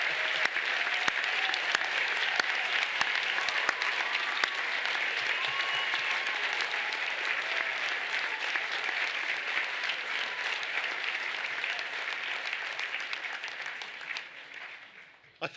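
Audience at a La Trobe University graduation ceremony applauding graduates, with dense, sustained clapping and some cheering that fills the hall steadily for about fifteen seconds before tapering off at the end.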